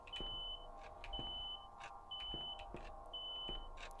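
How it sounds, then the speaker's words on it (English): A smoke detector gives four short, high beeps about a second apart, steady and mid-distance. Soft low thumps and room noise sit beneath them, and no one speaks. "As I try to change the batteries from the smoke detector."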